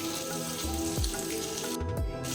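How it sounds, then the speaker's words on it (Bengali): Flat beans fry with spices in a pan over a low flame, giving a steady close sizzle and hiss with a couple of soft thumps from stirring. No one speaks. "এক দু মিনিট লো ফ্লেমে শিম মশলার সঙ্গে কষিয়ে নেবো"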